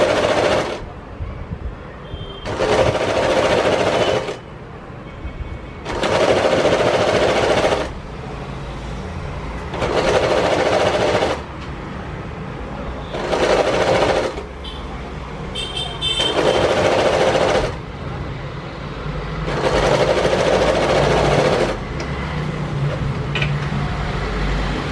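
Domestic sewing machine stitching a salwar shoulder seam toward the back side, running in repeated bursts of about two seconds separated by short pauses, loud and close, with no talk.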